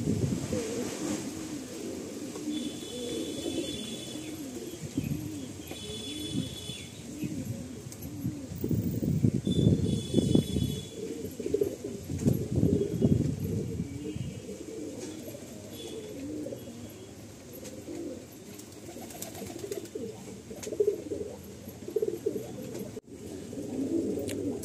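A breeding pair of pigeons coos indoors in soft, repeated low calls, fairly close and steady throughout, with a faint background rumble and no speech.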